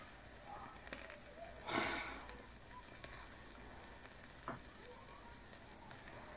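A green flame burns in a chemistry experiment, with a soft rushing flare near the start and faint crackle over a quiet background.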